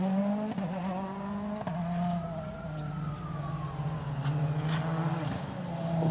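A rally car sets off on a special stage of the Monte-Carlo Rally and roars past, its engine note climbing and shifting through the gears, then fading as it pulls away.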